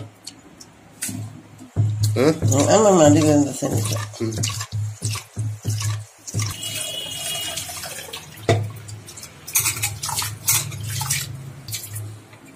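Water sloshes and splashes in a container as millet grain is swirled and rinsed by hand to remove stones and grit, with trickling and dripping, while a person talks over it in Tamil.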